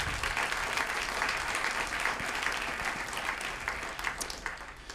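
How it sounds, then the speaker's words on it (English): Sustained audience applause from a crowd at a panel event on journalism and free speech, steady clapping that fills the whole stretch and thins slightly toward the end. "Let's give a round of applause to these great people."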